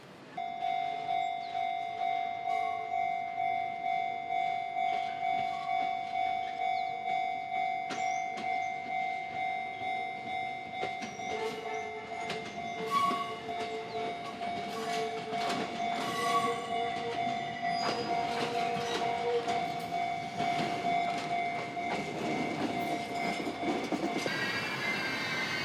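Fuji-Q Railway train rolling from Otsuki toward Mount Fuji, a steady interior rumble with clicking wheels over rail joints, a sustained tonal whine and occasional squeals, without voices.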